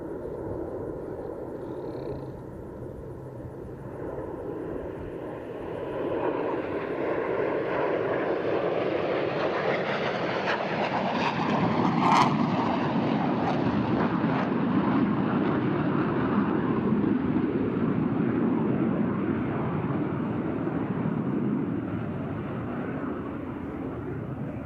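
Military jets flying in formation at an air show over a naval air station, a loud broad engine roar that swells as they pass overhead and holds steady before slowly fading, no voices.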